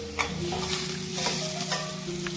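Tomatoes sizzle and fry in an oil-filled pan for an Indian dry methi and potato dish, with a constant close hiss broken by several scraping stirs of a spoon.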